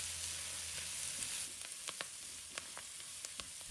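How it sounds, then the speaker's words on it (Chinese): Cabbage stir-fried with mushrooms and squid in a wok, giving a faint, steady sizzle broken by a few light scraping stirs; no one speaks. "继续的炒"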